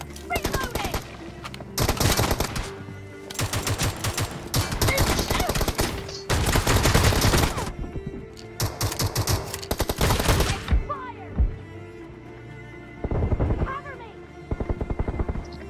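Bursts of rapid automatic gunfire from the mobile game BGMI crackle in loud, separated volleys with short pauses between, while players talk over the action.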